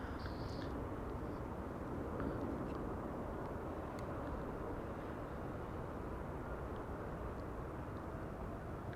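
An airplane arriving at Amsterdam Schiphol Airport in windy, sunny weather gives a steady, fairly distant engine rumble and roar that holds evenly throughout, with no talking.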